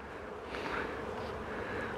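A honeybee swarm hums steadily as it runs into a wooden hive box at the entrance, a continuous close buzzing drone with slight swells, heard alone without talk.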